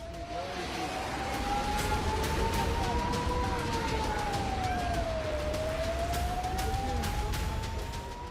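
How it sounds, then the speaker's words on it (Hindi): An air raid siren wails, slowly rising and falling in pitch, steady and continuous over a broad rumbling background, sounding distant and carrying across open space in an Israeli border area during a Hezbollah attack. "सीमा से सटे इलाकों में लगातार सायरन बजते रहे।"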